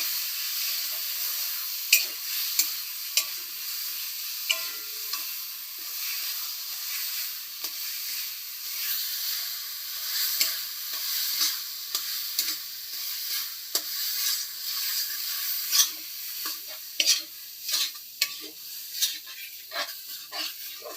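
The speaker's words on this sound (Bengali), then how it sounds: "এই ছানার মিশ্রণটাকে কিন্তু আমি এবার ভালোভাবে গ্যাসে নেড়ে নিচ্ছি যতক্ষণ না আমার ছানার মিশ্রণটি লালচে হয়ে যাচ্ছে এবং চিনিটা গলে যাচ্ছে" Chhana and sugar mixture frying in a pan over a gas flame for sandesh, with a continuous bright sizzle and a long run of repeated scraping stirs, close by, with no speech.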